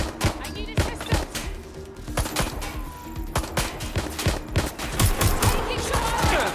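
Rapid bursts of gunfire in the video game Watch Dogs Legion, repeated sharp shots through the whole stretch over a busy game soundscape, with voices calling out in between.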